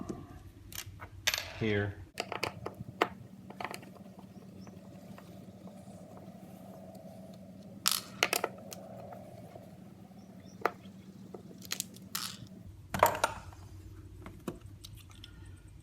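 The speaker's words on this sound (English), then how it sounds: "3 screws to get the old crank mechanism out" Screws being backed out of an old Andersen window crank mechanism, a few short clicks and scrapes of the driver against metal, close by over a steady low hum, with a brief spoken word.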